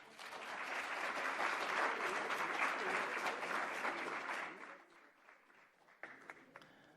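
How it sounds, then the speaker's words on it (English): Applause at a city council meeting, a moderate burst of clapping from the room that swells, holds for several seconds and then thins out into scattered claps and low murmuring. "Larry, that's twice in a row that you got applause."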